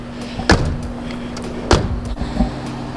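Two solid thuds of BMW E36 M3 car doors closing, about a second apart, each a sharp close slam over quiet outdoor background.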